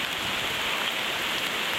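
Steady, dense rain falls on trees in an Irish glen, a continuous close hiss of drops on leaves with no voices.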